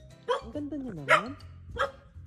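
A stray dog barks close by, giving three short barks with a rising and falling whine between them.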